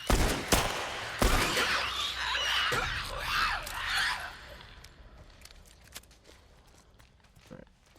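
Revolver shots in The Last of Us ring out as a few loud, sharp cracks early on, followed by rustling movement, scattered thumps and faint footsteps fading into quieter ambience.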